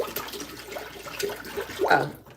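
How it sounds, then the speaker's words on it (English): Water pours into a pot of collard greens being cooked with chicken broth and smoked turkey, a continuous close splashing stream that swells near the end. "So basically, adding the water, see?"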